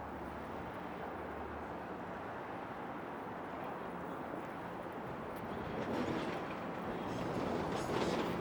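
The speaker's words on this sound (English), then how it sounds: "There's a southbound subway train passing." A southbound Toronto subway train rumbles past at a distance beneath Yonge Street, a continuous low roar that swells slightly louder toward the end.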